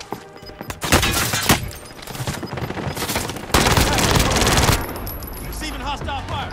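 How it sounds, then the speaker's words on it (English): Rapid automatic gunfire in the video game Warzone, loud bursts and sustained fusillades with sharp cracks, mixed with game sound effects and brief voice chatter. "Receiving hostile fire."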